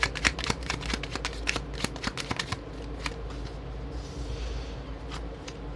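Fortune-telling cards are riffled and shuffled in quick, crisp bursts of flicking and snapping, up close and fairly loud, easing into softer sliding toward the end.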